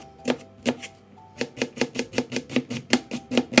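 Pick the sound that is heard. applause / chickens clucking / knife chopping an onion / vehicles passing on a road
knife chopping an onion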